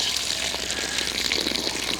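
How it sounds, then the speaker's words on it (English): Water siphoning out of an orchard irrigation tank through a hose, a steady, loud, close rushing gush that runs without a break. "it's actually siphoning the water through this hose and gaining speed"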